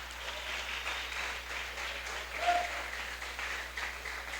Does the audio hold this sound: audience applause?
yes